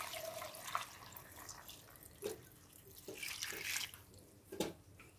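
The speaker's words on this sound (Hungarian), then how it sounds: "Felöntöm vízzel." Water splashes and trickles from a tap into a saucepan holding broccoli, a faint, uneven running sound with a few louder gushes and drips.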